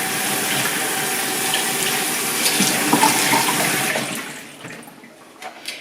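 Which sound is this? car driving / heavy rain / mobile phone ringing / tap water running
tap water running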